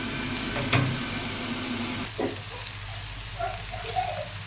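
Onion and ginger frying in a pan for a bitter gourd dish, a steady soft sizzle with a few stirring scrapes and light clinks, close and moderately quiet, no talk.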